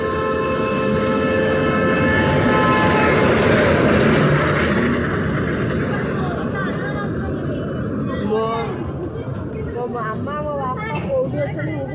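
A train running at Nilgiri Panda Park rumbles steadily with a droning tone, mixed with crowd chatter, while people talk nearby and their voices grow more prominent toward the end.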